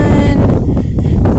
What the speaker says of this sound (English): A little windy today.